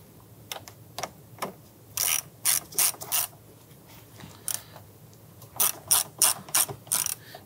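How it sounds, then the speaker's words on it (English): A ratchet clicks in short, repeated bursts while tightening bolts on a 1999-2004 Jeep Grand Cherokee during a weather strip replacement, close and crisp with brief pauses between strokes and no talking. "I'll come on back and snug it down with the ratchet."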